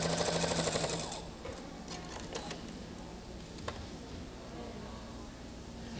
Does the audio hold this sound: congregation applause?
no